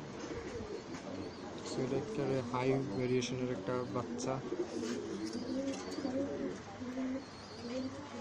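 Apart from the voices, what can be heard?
pigeons cooing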